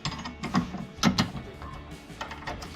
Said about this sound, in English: I'll get this started with just a regular ratchet and a wrench